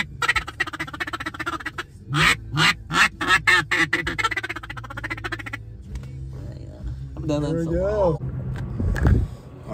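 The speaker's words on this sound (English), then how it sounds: "I haven't used the duck call in a while, man" A handheld duck call blown inside a vehicle at a fast-food drive-thru, a rapid run of loud nasal quacks followed by drawn-out wavering calls, close and dominant over a low engine hum.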